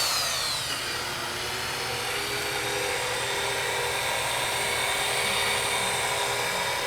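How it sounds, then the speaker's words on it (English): A rotary polisher with a small pad buffs car paint in a garage, a steady high-pitched motor whine holding constant throughout, close and alone with no talking. "This is surgical rotary buffing"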